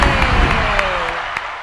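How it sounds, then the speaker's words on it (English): A live studio audience cheers and claps loudly at the start of an economic update show, a dense steady roar with scattered claps that fades slightly toward the end. "Crowd roars."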